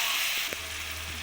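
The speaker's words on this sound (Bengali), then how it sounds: "এবার পেঁয়াজটাকে ভালো করে আমি লাল করে ভেজে নেব এখানে" Chopped onions with salt frying in a kadai for chicken kosha, a steady close sizzle with a soft clink partway through and a low hum running underneath.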